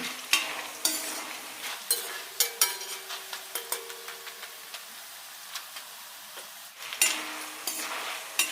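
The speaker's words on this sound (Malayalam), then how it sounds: "നല്ലൊരു ഗോൾഡൻ ബ്രൗൺ ആയി കിട്ടണം അതുവരെ വറുത്തെടുക്കാം" Oil sizzles softly and steadily in a pan, broken by repeated sharp scrapes and taps of a utensil stirring jackfruit chips frying toward golden brown.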